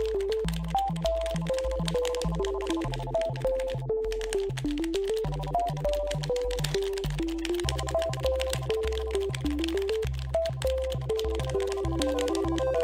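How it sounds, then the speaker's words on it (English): Arcade stick buttons click rapidly and steadily during a game, close and crisp, under a melodic game music track. "do you hear this ASMR right now? The, like, arcade stick clicking ASMR?"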